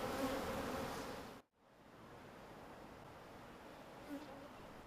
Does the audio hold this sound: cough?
no